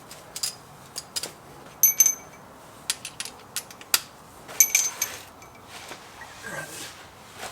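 Ratchet loosening 15mm oil pan bolts on a Jeep JK, with scattered metallic clicks and clatters in short bursts, fairly close and moderately quiet, over a faint background hiss.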